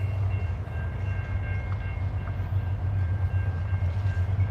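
A CSX freight train rolls slowly around a corner, a steady low rumble of rail cars with faint squeal tones, continuous and fairly close, no talking.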